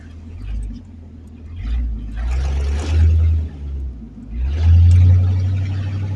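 A 1984 Chevrolet El Camino's engine revs hard in two surging pulls while accelerating through traffic, a deep rumbling roar rising and falling close up, loudest near the end.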